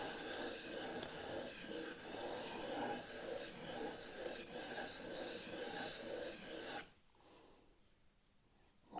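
A chisel rubs back and forth on an oiled sharpening stone, a steady close rasping scrape in repeated strokes that stops abruptly near the end, leaving quiet.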